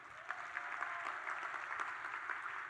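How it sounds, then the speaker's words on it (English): Audience applause fills the room, a steady dense clapping with scattered louder claps. It stays fairly even throughout, with no voices over it. "Now, clap it up for blog posts."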